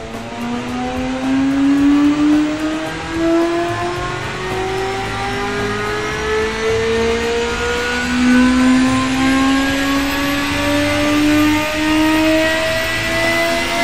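A 541cc twin-turbocharged V8 in the Automation car-building game revs on a dyno, a loud, steady engine note whose pitch climbs smoothly and continuously as it runs up through the rev range.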